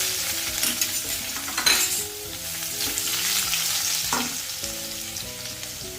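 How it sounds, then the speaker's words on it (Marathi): Seven or eight crushed garlic cloves hitting hot oil for a chivai leafy vegetable dish, giving a dense continuous sizzle with a couple of sharp stirring scrapes, no one speaking. "तेल गरम झालंय यामध्ये सात आठ पाकळ्या लसूण ठेचून घेतलाय तो घालायचा आहे"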